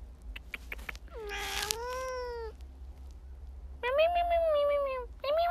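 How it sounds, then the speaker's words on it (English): A cat meows with drawn-out, falling cries, a couple of loud wails separated by quiet pauses, close and clear, with a few brief clicks at the start. "Meow meow meow meow meow meow meow meow."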